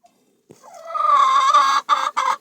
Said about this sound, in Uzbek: Suvlari juda yaxshi tovuqlar ekan.